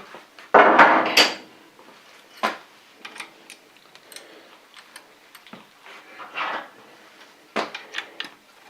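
A hammer strikes a center punch on a metal workpiece in a machine shop, one sharp loud impact followed by lighter scattered taps and handling clicks.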